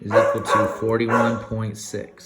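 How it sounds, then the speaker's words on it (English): A dog barks repeatedly in a home, several close, sharp woofs and yips in quick succession that overlap with a person talking. "sorry about the dog"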